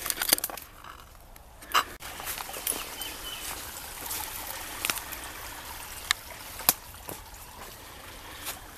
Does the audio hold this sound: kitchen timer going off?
no